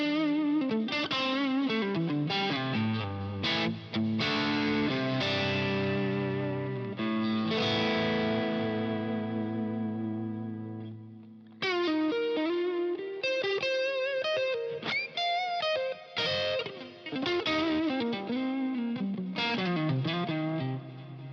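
Modified Fender USA Standard Stratocaster played through a dirty, distorted blue channel, loud and sustained chords and riffs with a brief pause midway, no talking.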